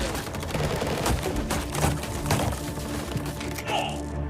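Gunfire from Carlos and his companions shooting nonstop in a mafia kidnapping drama: a dense run of sharp cracks and bursts over roughly four seconds, loud and continuous without pauses.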